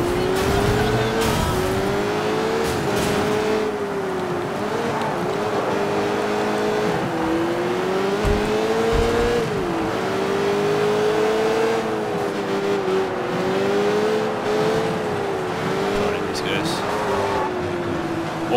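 Cars in the Sleeping Dogs video game drive with a steady engine drone that rises and falls through gear changes, joined by tire squeals and skids, loud and continuous, with occasional talk over the engine noise.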